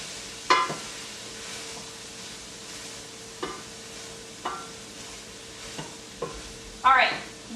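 Asparagus and peas sizzle in a pan as they warm through, with a steady frying hiss broken by several sharp scrapes and clacks of stirring, moderately close and without talk.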